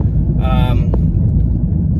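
A Peugeot 208 budget car's engine gives a low, steady growl heard from inside the cabin. A short tonal chime rises briefly over the rumble.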